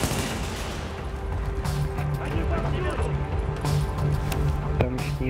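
Gunfire in The Division underground game level, rapid bursts of shots and clattering impacts over a dense, busy background of combat noise, with some talk.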